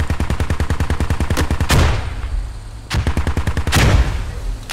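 Sustained machine-gun fire in the video game Squad, loud rapid bursts of close shots with a pause in between, heavy echoing cracks within each burst.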